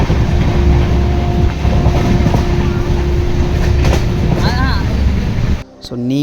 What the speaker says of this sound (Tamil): ட்ரெயின் வந்து இருக்க வந்து பார்த்திங்கன்னா அப்படின்னா செம்ம ஸ்பீடாக வந்து போச்சு